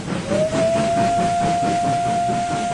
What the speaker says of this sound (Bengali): তখন চলতো কয়লার ইঞ্জিন।